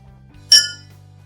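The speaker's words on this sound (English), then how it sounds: "When she strikes the glass hard with a spoon, this is the sound it makes." A spoon strikes a drinking glass hard once, giving a bright, ringing clink that decays quickly over a low steady hum.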